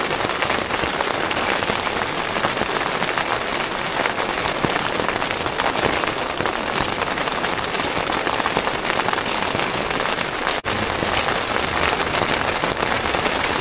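Heavy rain drums on a camping tent pitched in the mountains near Kangding, a loud, unbroken patter of close drops with no talk, and a single sharp tick near the end.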